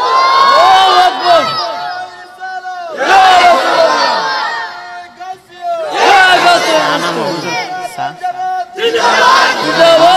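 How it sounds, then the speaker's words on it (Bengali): A crowd at an Islamic waz gathering in Narsingdi, Bangladesh, shouts the takbir chant in unison in four loud, close bursts, with a leader's voice calling out in the short gaps between them. "একটা তাকবীর দাও বাবা তো কি জোরে তাকবীর"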